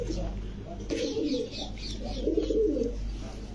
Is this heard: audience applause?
no